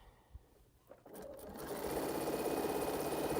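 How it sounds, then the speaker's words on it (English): A sewing machine stitches a quilt string border from African Ankara fabric scraps, starting with a few soft clicks before the motor whirs up into a steady, close, fast-running hum. "So I'm just sewing my string border together at this point."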